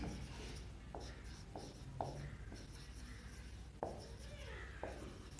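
Chalk or a marker writes out a process on a board during a chemistry lesson, making short scratchy strokes at a faint level under a teacher's steady talk.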